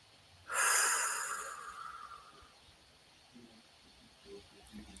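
One long, close breath drawn in, starting sharp and loud and slowly fading over about two seconds in a quiet, calm room, followed by a few faint soft sounds.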